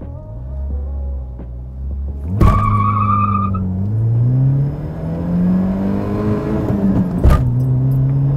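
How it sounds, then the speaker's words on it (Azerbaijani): A Peugeot Pars sedan with a 1.8 16-valve engine accelerates hard from a standstill in a 0-100 test. The engine revs loudly and climbs through the gears, with two sharp bursts near the shifts. No one speaks. "0-100 deyən mənəm. Sürətlənməsin bir dənə maşını yoxlayaq."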